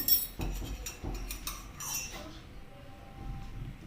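A spoon clinks repeatedly against a glass while stirring half a teaspoon of baking soda into water, quick light taps in an uneven rhythm, then a quieter stretch.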